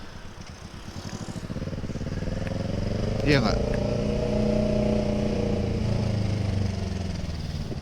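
A Kawasaki ER6N motorcycle engine revs and drones close by on an early Saturday morning ride, its pitch rising and holding with a brief sharp spike midway, while someone talks over it.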